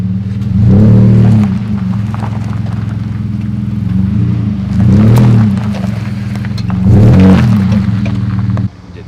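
A Chevrolet Colorado truck's engine drones steadily at low pitch while rhythmic creaking swells in three recurring bursts, close and fairly loud, with no talking.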